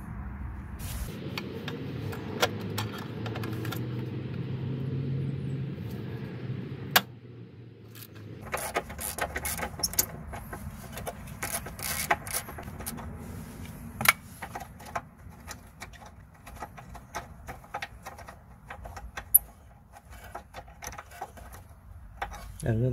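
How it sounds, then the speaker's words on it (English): A T30 bit driver works a bolt loose on a Honda Civic MK8 near the front SRS crash sensor, giving close metallic clicks, rattles and ratcheting taps in irregular bursts, with someone talking at times. "I'm just gonna use a T30 bit to remove this bolt here"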